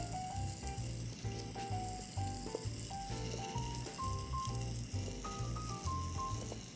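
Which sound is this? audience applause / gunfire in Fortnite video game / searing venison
searing venison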